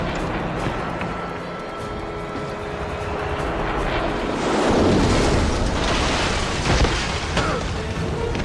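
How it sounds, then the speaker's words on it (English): In a James Bond 007 Blood Stone game scene, an aircraft's rotor-like engine roar swells in, building to a loud, close pass midway with booming impacts, then settles into a sustained drone. "Helicopter inbound."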